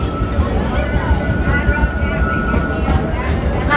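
The Six Flags Over Texas park train rolls along with a loud, steady rumble and rattle, close and continuous, with gusts of wind noise on the microphone.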